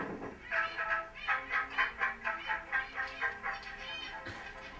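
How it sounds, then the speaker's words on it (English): Recorded birds triggering gamelan samples: a steady run of bright, pulsing metallic tones rises and falls in an even rhythm, fairly close and moderately loud, with no voices. "So this is birds triggering gamelan samples."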